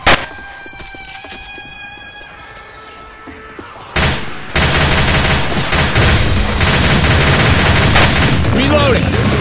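Rapid bursts of gunfire from the zombie shooter Left 4 Dead 2, loud and sustained after an early shot and a quieter stretch, with a shout near the start.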